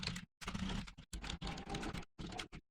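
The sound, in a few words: typing on a computer keyboard while filling a form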